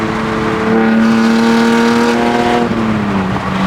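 A car engine revs loudly up close, holding a high droning pitch that climbs slightly before easing off near the end.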